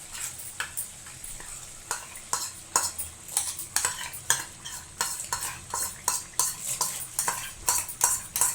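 Spoon stirring masala gravy into a pan of chicken curry, steady repeated scraping strokes over a soft sizzle, close and fairly loud, no talking.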